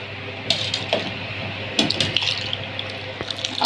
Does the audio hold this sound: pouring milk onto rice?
yes